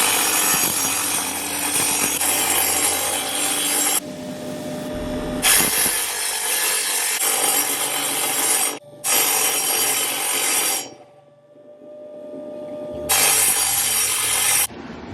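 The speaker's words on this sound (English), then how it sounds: "Got a grit wheel. We'll do some rough grinding." Silver ore slab being rough-ground on a grit wheel, loud continuous abrasive grinding in several long bursts separated by short pauses, close and without speech.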